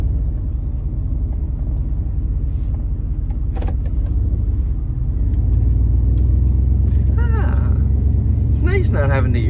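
A camper van drives along with a low engine drone and road rumble that swells louder partway through, with a few rattles and someone talking over it.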